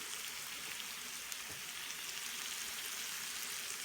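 French toast sizzling in a frying pan, a steady, close crackling hiss that carries on without a break and with no voices over it.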